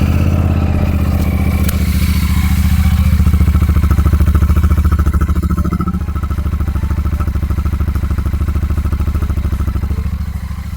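A Royal Enfield Super Meteor 650 motorcycle idles and revs with its stock exhaust, a loud, close, deep pulsing rumble that swells mid-way and then settles back to a steady throb.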